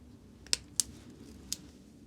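Pliers snipping through protective foam on an FPV drone battery, three sharp close clicks spaced irregularly over a soft background hum.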